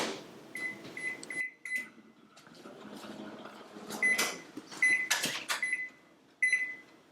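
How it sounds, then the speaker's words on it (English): A microwave oven heating cream and chocolate chips, with repeated short beeps, a door or cupboard clunk, button presses and a low hum between the sharper sounds. "place this into the microwave for 1 minute"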